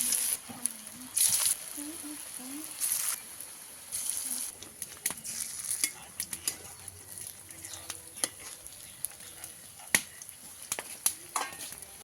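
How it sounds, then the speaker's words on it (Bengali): Cauliflower fritters made with rice-flour batter fry in a kadai, giving an uneven sizzle with bursts of bubbling and scattered utensil clicks and scrapes. A faint voice is heard briefly near the start. "ফুলকপির বড়াগুলো ভাজা শেষ"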